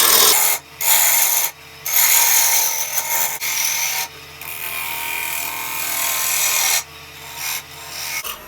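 A wood lathe cuts a tenon on a jack pine burl, giving harsh scraping and rasping bursts broken by short pauses, close and fairly loud, with no voices.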